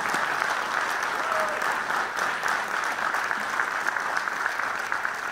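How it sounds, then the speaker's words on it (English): Steady applause from a large town hall audience honoring panelists at an event on race, class and poverty, a dense even wash of clapping that holds at constant level throughout with some faint crowd murmur mixed in. "Let's give them another round of applause."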